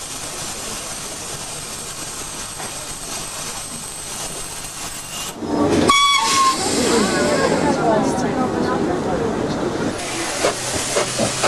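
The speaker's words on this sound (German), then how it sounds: "In der Hochsaison fahren die Züge in dichter Reihenfolge hintereinander her." A diesel-locomotive mountain train on the Brienz Rothorn line rumbles steadily along with a hissing, roaring drone, a brief squeal partway through, then continues running close by.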